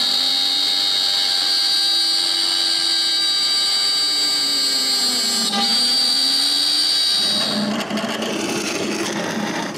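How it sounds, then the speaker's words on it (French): A power drill bores a 22 mm hole through the centre of plywood pieces for a sharpening station. A steady, close motor whine dips in pitch as the bit bites, then turns into a rougher, louder cutting roar near the end. "je perce un trou de 22 mm au centre de 2 morceaux"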